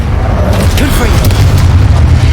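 The Confringo fire spell goes off as a deep, sustained boom in Hogwarts Legacy, loud and dense, with the spell effects rumbling throughout.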